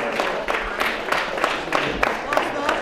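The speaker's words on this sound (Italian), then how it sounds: "Salutiamo con un applauso i nostri fotografi" Light, scattered clapping from an audience at a Mediolanum Soccorso Onlus awards ceremony, greeting the photographers with sparse, uneven claps over a low room murmur.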